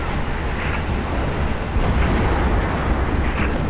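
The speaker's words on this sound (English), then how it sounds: "That's a lot of bullets. Those are technically cannon rounds." Heavy cannon rounds fire in the video game Halo Reach, a dense continuous rumble of rapid booming blasts that fills the soundfield steadily and loudly without pause.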